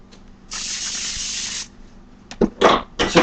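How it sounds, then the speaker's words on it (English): A single steady hiss of Pam cooking spray lasting about a second onto a heating skillet, close and clear, followed by a few short clatters. "And apply a little bit of Pam."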